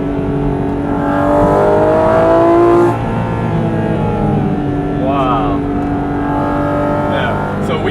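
A Porsche GT2 RS with stock exhaust roars past at speed, a loud engine note that swells and then falls away, with people talking over it.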